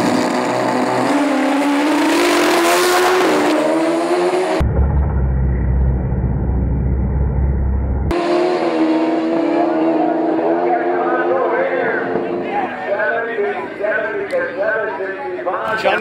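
A Pro Street drag bike roars down the strip at an AMA drag racing event in Montgomery, its engine rising in pitch as it wheelies. The engine cuts off abruptly into a low rumble, then the loud pass resumes, with an announcer talking throughout.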